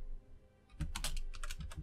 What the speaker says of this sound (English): Oh, I gotta actually use a keyboard